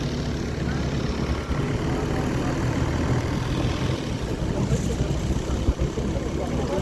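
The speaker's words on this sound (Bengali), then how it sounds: "লং টেল বোট, এটা টেল," A long-tail boat engine drones steadily and loudly near Hong Island in Krabi, a continuous low rumbling hum carried over open water.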